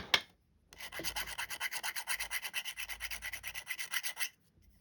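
A part of an early-model Shakespeare Tiger fishing reel is lightly polished to remove scratches. It makes a close, rhythmic rubbing of quick even back-and-forth strokes lasting several seconds after a single tap, with no voices.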